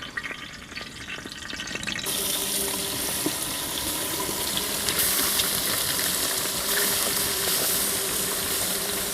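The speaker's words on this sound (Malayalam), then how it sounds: "എണ്ണ നല്ലപോലെ ചൂടായി വന്നിട്ടുണ്ട്. നമുക്ക് മീനിട്ട് കൊടുക്കാം." A whole fish drops into hot oil for a village-style fry, bursting into a loud, steady sizzle and crackle that holds evenly close-up after a quieter start, with no talking.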